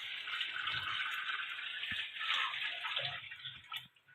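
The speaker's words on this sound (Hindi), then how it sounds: "ये देखिएगा पानी इसके अंदर डाल दिया।" About two litres of water pours into a cooking pot of rice for beef pulao, a continuous close splashing rush that gurgles and thins out toward the end.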